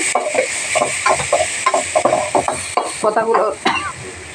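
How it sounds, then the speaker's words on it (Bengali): Spices being stirred in a cooking pan, an irregular run of close scraping and clicking strokes from a utensil against the metal, with no voices. "এবার মশলাটাকে একটু নেড়ে চেড়ে নেব।"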